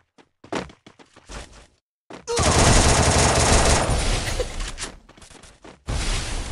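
Scattered single shots crack out, then a long, loud burst of rapid automatic gunfire rattles on before a final volley, an intense firefight in a Counter-Strike ranked match.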